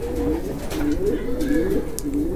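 Nesting homing pigeons coo in a repeated low rolling pattern, close and fairly steady, with faint background voices beneath.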